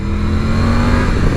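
A Triumph Tiger 900 motorcycle engine revs loud and close in a steady, sustained drone with no talking over it.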